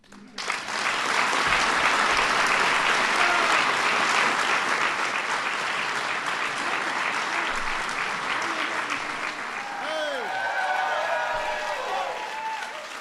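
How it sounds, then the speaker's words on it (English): A large audience at a Star Wars: The Force Awakens event applauds loudly and steadily, dense clapping with some cheering that tapers slightly as a voice begins speaking near the end. "everybody's cheering because I've bought their books, I've seen their movies."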